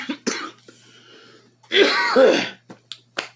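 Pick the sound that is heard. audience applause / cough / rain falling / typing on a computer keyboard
cough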